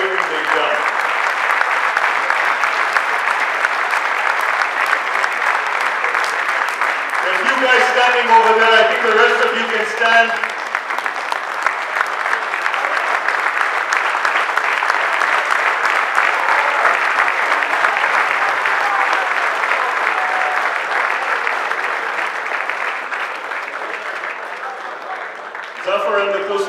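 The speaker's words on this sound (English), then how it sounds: "Please, a loud round of applause for this organizing committee for everything they've done." Loud, sustained applause from a large crowd at a closing ceremony, honoring the organizing committee, with an announcer's amplified voice speaking over it partway through and cheering continuing steadily to the end.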